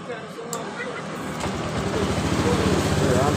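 A Honda Beat eSP scooter that stalls when the throttle is opened is started; about halfway through, a low engine rumble builds up and keeps running. Someone talks over it.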